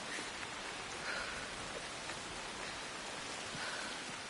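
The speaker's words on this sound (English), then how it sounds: "Land ruining rain." Rain pours in the video game Assassin's Creed Shadows, a continuous full-bodied hiss of drops striking the ground, steady and close with no talking heard.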